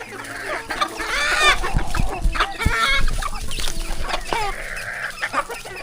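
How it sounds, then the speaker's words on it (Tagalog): Several chickens cluck and squawk close by, with a busy farmyard chorus of overlapping calls and scattered louder bursts. "Maraming mga manok dyan."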